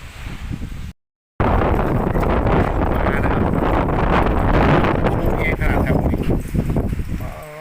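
Strong wind gusts roar steadily into the microphone as a storm with rain arrives, a loud buffeting rush after a brief cutout, with someone speaking under the noise.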